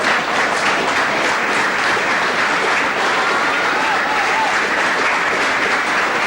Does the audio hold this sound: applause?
yes